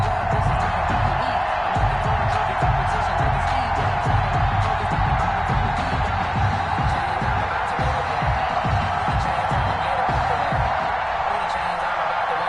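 A stadium crowd roars steadily at a Giants versus Washington football game in a video game, a dense continuous wash of cheering and noise holding at a constant loud level throughout.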